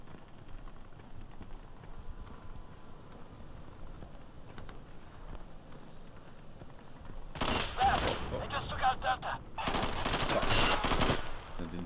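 Gunfire in the video game Insurgency: after a quieter stretch, loud bursts of rapid shots break out, then a second, denser volley of automatic fire follows near the end.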